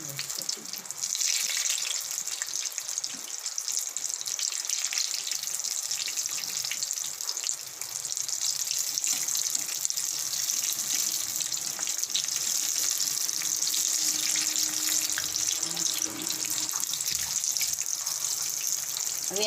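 Ridge gourd bhajiya frying in hot oil, a steady, even sizzle with a bright hiss that holds without pause and without talking.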